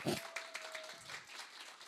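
An audience at a Mannatech corporate vision-day event in Korea applauds, a brief spread-out patter of clapping in a large hall, fairly faint and settling quickly.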